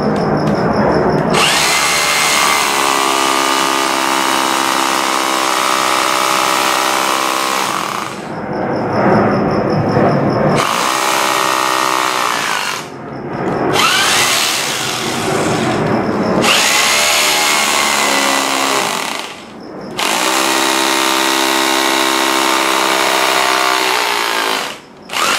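A loud Stanley SHR263KA SDS Plus rotary hammer drills into a ceiling in long bursts with short pauses between, its grinding, pounding whine steady throughout.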